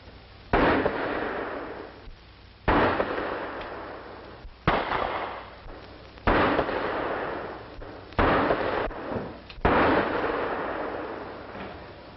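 Pistol shots at police target practice ring out six times in an old 1940 film soundtrack, sharp loud cracks spaced about two seconds apart, each trailing off into a short echo.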